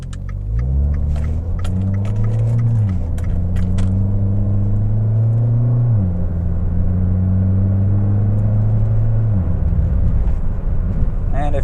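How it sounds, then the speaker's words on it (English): A loud car engine rumbles steadily while driving through a turn on the way to a Coney Island diner, pitch stepping up and down with gear changes, continuous and close. "this car is loud"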